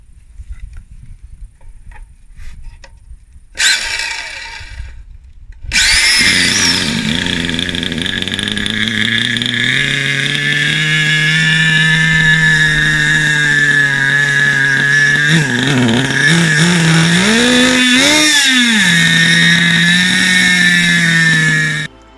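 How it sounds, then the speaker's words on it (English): A Kyosho Stinger 4WD 1/10 nitro buggy with an OS Max 0.12 engine and Kyosho muffler is cranked by a bump starter box, then catches and runs at a loud, steady buzzing idle, with a few revs dipping and rising near the end. "I will put a short video where I start the engine."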